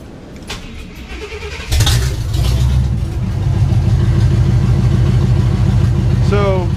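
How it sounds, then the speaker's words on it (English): A 1989 K5 Blazer with open headers cranks and fires up loudly after a brief moment of talk, then settles into a deep, rumbling idle with occasional blips of revving, close to the listener. "Let's fire this thing up with open headers and see where it's at."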